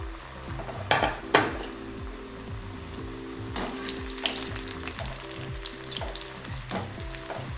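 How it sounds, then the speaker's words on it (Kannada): A festival sweet snack frying in hot oil over a medium flame, with a steady crackling sizzle and occasional clinks of a utensil stirring against the pan, close and continuous. "ಈಗ ಎಣ್ಣೆ ಕಾದಿದೆ, ನಾನು ಇದೆಲ್ಲವನ್ನು ಕರಿತೀನಿ."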